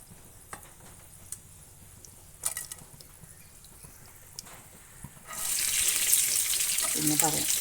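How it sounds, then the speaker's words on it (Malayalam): Fenugreek seeds dropped into hot oil in a pan for sambar burst into a loud, steady sizzle after several seconds of quiet, light clinks and scrapes beforehand. "ഞാനിപ്പോൾ ഒരു പാനൊക്കെ വെച്ചുകൊണ്ട് അതിലേക്ക് കുറച്ച് എണ്ണ ഒഴിച്ചിട്ടുണ്ട്. അപ്പോൾ ഞാൻ ആദ്യം ഇതിലേക്ക് ഉലുവയാണ് ഇട്ട് കൊടുക്കണം"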